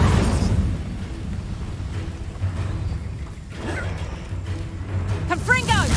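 A fire spell cast in the Hogwarts Legacy video game roars as a sustained low rumbling burst over busy battle sounds, with a short voice at the end and constant loud game noise throughout.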